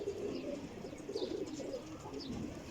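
Pigeons cooing in a loft, soft repeated low warbling coos over a steady background murmur, fairly faint and without talk.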